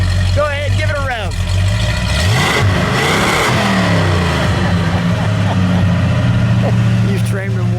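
A 1970 Ford Torino with a 429 Cobra Jet Ram Air V8 and four-speed is revved hard close by, with a deep rising roar and a quick climb in pitch as people talk over the idle and revs.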